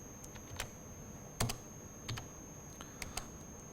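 Typing on a computer keyboard while writing Matlab/Octave code: sparse, quiet key clicks in an irregular rhythm, close by, with a few sharper taps and no talking.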